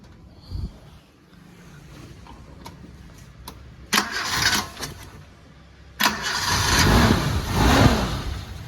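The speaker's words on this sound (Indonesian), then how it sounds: "Nah, ini untuk suara mesinnya." The engine of a 2000 Suzuki Katana GX cranks and catches, then settles into a running rumble, preceded by a few clicks and knocks; no talking.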